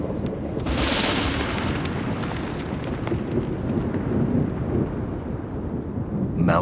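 Thunder rumbles through a storm in Slovakia's Tatra mountains, a loud crack near the start rolling into a long deep low rumble with rain hissing beneath.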